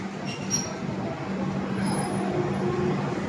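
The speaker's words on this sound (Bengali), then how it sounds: "এই যে শিয়ালদা দিয়ে এই ট্রেন ছাড়লো" A passenger train pulls out of Sealdah station in Kolkata, heard from inside as a low, steady rumble of wheels and carriages, fairly quiet and unbroken.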